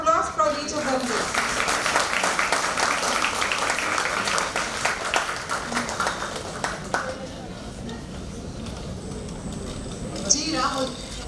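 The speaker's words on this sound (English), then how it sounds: "Can we have a round of applause for each of them, please?" An audience at a career talk gives sustained applause, loud and steady for about seven seconds before fading, with a voice speaking over the tail end.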